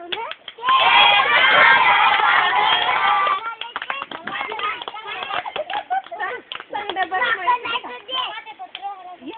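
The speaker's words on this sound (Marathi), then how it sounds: "वाजवा टाळ्या" Small children in a preschool class clap their hands in a dense burst of rapid claps, then scattered claps and footsteps as an adult voice talks over them, close and lively.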